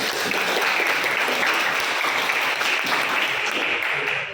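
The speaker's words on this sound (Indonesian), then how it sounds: "silakan tepuk tangan untuk kelompok 1" Group 1 of a class gets a round of applause, a dense, steady clapping from the students that fills the whole stretch at an even level, with a few voices mixed in.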